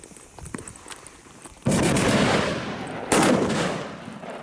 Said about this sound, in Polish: I teraz odpalamy ją w ziemi i zobaczymy jak duży krater zrobi.